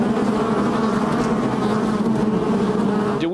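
Honey bees swarm densely at a historic Minnesota apiary, producing a loud, continuous, close-up buzz with no break and no voices.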